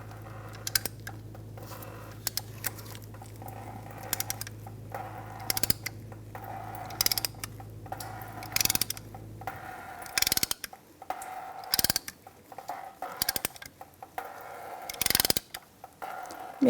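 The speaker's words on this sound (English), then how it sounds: "we'll open that bleeder screw and then ratchet that piston right back" Ratchet clicking in short bursts while a brake caliper piston on a 2013-2018 Toyota RAV4 is pushed back during a front brake job, sharp metallic clicks repeating close by over a low steady hum.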